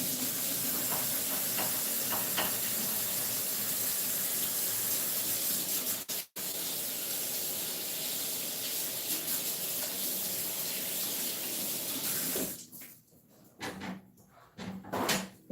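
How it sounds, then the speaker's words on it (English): Kitchen tap water runs in a steady, fairly loud hiss while hands are washed after handling raw meat for a meatloaf, broken by a brief cutoff midway and ending in splashy, uneven trickles as the flow stops. "when we're working with meat, we have to make sure that we wash our hands quite a bit"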